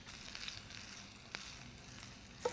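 Eggplant fries skin side down in a pan, giving a steady, even sizzle that stays close and continuous throughout, with no voices over it.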